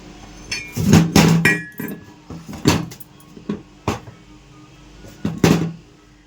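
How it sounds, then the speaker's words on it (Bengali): Ceramic tea cups are set down into a sink basin, clinking and clattering in a series of sharp, close knocks spread unevenly over several seconds, with no talk. "চায়ের কাপগুলো বেসিনে নামিয়ে দিই, এগুলো ধুয়ে নেব"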